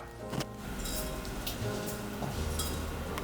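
Roasted ingredients for Hat Yai fried chicken are pounded in a mortar, making quiet, irregular clinks and knocks that stay soft and close, with no speech.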